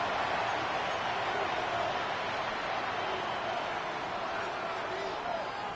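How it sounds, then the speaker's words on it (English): A football stadium crowd roars in a dense, continuous wash of noise during a Denver versus Kansas City game, loud and steady throughout, with a commentator's voice faintly mixed in. "This crowd turning up the decibel level."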